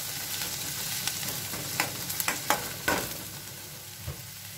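Onions sauté with curry leaves in a pan for broad bean kulambu, a steady close sizzle punctuated by several sharp spatula scrapes and stirs, with no talking.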